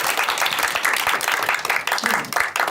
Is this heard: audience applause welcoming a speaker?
yes